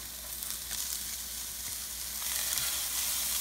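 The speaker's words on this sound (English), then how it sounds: "Now we're going to start adding in the cauliflower." Cauliflower goes into a hot pan with garlic and ginger for chicken cauliflower fried rice, giving a steady loud sizzle and frying hiss that grows a little louder partway through, with faint stirring scrapes and no talk.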